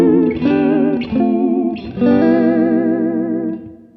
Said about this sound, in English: that sort of emulates a vibrato pedal sound